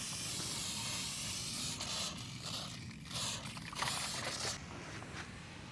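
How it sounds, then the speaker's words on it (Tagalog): A garden sprayer mists plants with a steady soft hiss, fairly quiet and close, with faint scraping and handling noises over it. "Na-spray na po natin lahat."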